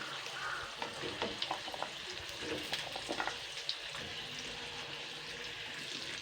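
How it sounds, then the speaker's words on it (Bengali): Sliced, peeled potatoes frying in oil for a drumstick and potato curry, giving a steady soft sizzle with scattered crackles and a few stirring clicks, close and moderately loud, with no talking. "স্লাইস করে কেটে রাখা আলুগুলো কিন্তু দিয়ে দিয়ে দিচ্ছি এগুলো কিন্তু সুন্দর করে ভেজে নিতে হবে"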